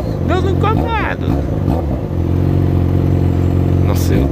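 A motorcycle engine hums loudly and steadily under shouted voices, holding a constant drone and then rising slightly toward the end as the rider accelerates.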